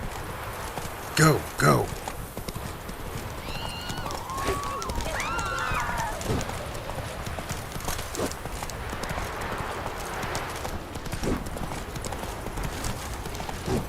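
Roach, a horse in the video game The Witcher 3, galloping with quick clip-clop hoofbeats over steady background game audio, with a few loud close thuds early on; a voice speaks briefly over it.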